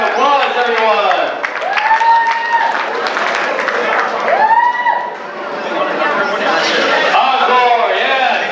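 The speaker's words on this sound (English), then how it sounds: "Big round of applause, everyone." Audience applause and cheering at the 2022 Akron Jewish Family Festival concert, a dense, steady crowd roar of clapping mixed with loud voices and shouts throughout.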